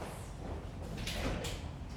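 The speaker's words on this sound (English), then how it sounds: "I'll grab the door." A door at a clinic is opened and shut: soft sliding and thudding movements with a brief rattle, fairly quiet against low room noise.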